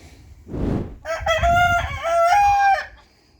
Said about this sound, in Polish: No, koguty już się cieszą.